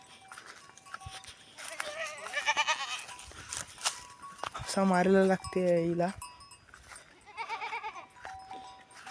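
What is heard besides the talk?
goats bleating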